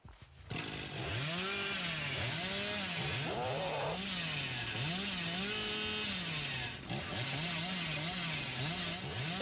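A chainsaw in the video game Dead by Daylight snarls to life and revs loudly, its engine pitch rising and falling in repeated surges, with a sharp mechanical whine over a rough idle and no voices.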